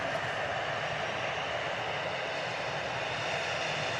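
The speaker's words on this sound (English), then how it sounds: "about to touch down, by the way, is a Vueling A320 in from Barcelona" Vueling Airbus A320 arriving from Barcelona and touching down at Manchester Airport, heard as a faint, distant, steady broadband jet roar without any voices.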